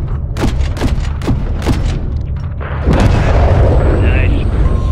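Gunship rounds exploding across the boneyard in Modern Warfare III, a rapid series of about five distant booms followed by a heavier, sustained rumbling barrage, with voices heard over the explosions.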